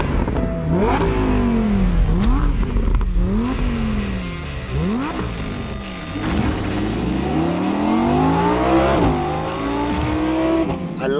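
An Audi R8 sports car revs hard while driving, its engine note climbing through repeated gear changes with sharp drops between shifts, loud and close throughout.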